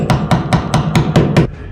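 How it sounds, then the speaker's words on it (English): A hammer taps a wooden dowel into a stripped hole in a grand piano leg: seven sharp, evenly spaced knocks, close and fairly loud, in a quick steady rhythm. "I'll just take my hammer and tap in a little bit."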